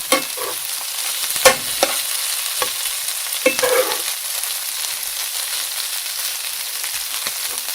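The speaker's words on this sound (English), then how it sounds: "I'm just going to let it set there and fry and do its thing" Peppers and lentils fry in a pan with a steady, close sizzle, broken by several scraping stirs and clacks of a utensil near the start, then left to crackle undisturbed.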